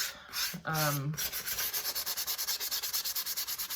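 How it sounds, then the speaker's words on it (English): Sandpaper rubs over a clay fairy house base in quick, steady back-and-forth strokes, close and fairly quiet, after a brief squeak at the start. "I'm going to sand it a little bit"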